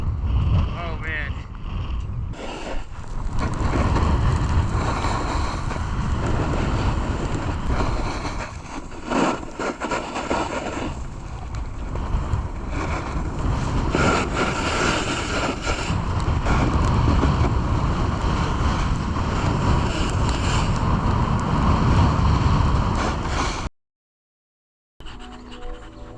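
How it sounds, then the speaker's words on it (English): Strong, cold wind roars into the microphone on a ski chairlift, a continuous loud buffeting rush with gusts, until it cuts out briefly near the end. "Wind is so bad up here on the chairlift. It is just so cold."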